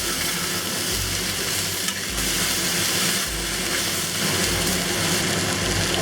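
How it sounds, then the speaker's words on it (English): Rice cakes stir-fried in sesame oil in a pan for a Shanghai vegetarian dish, giving a loud continuous sizzle with rhythmic tossing surges about every second. "we'll add the rice cake. Give this a good toss."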